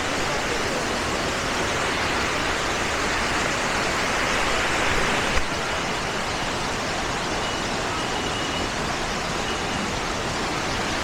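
Abbe Falls at full monsoon flow, swollen water rushing fast, gives a constant broadband roar that stays steady and close for the whole stretch.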